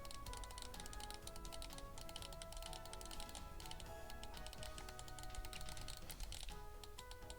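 The D-pad on a Mojhon Storm game controller clicks repeatedly up close, a quick run of sharp, quiet taps in an uneven rhythm.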